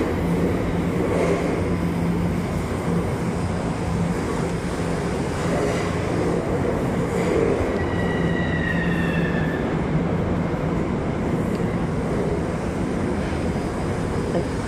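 Long Island Rail Road Port Washington train at Penn Station, a loud steady rumble of railcars in an enclosed station with brief high wheel squeals partway through, no talking.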